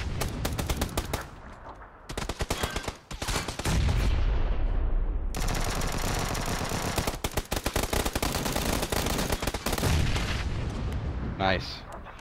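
Heavy automatic gunfire roars in PUBG squad combat, with dense sustained bursts and brief gaps, loud and close, with a few distant booms mixed in.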